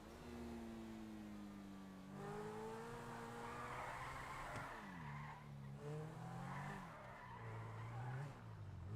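A car drifting on a highway in a GTA game, with long wavering tire squeals that rise and bend repeatedly over a steady engine drone, loud and close, and no voices.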